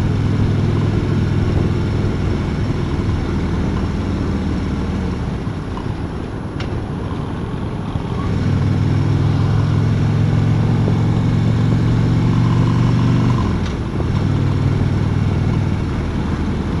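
A 2016 Harley-Davidson Road King engine running on a test ride, a continuous low rumbling drone mixed with road and wind noise, swelling and easing as the throttle changes, with no talk.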